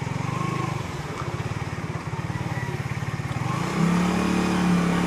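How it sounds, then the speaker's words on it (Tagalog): A motorcycle engine chugs in a fast, regular pulsing idle, then rises into a louder, steadier, higher-pitched tone as the bike accelerates hard enough to lift its front wheel. The engine is close and there is no talk over it. "Pagka nabigla ko yung una, umaangat yung unahan ng ating motor."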